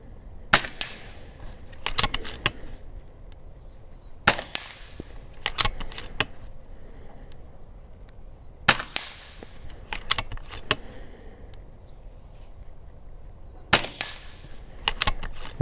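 An FX DRS Tactical air rifle fires at a target, each sharp crack followed by a quick metallic ring, occurring in several separate bursts of clustered snaps over a quiet background.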